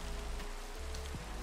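Rain falling in the Minecraft video game, a soft continuous hiss of drops on surfaces, faint and steady, with low-pitched game hum underneath.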